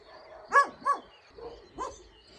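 Dogs barking in a neighborhood near a garden with terrace building work going on: a few separate barks and yelps at a middle distance, spaced irregularly and fairly faint.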